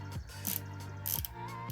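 A 7/16 ratchet wrench works a fastener on a Murray mower with a Briggs and Stratton engine, giving two short bursts of rapid clicking close up against a steady engine-like hum.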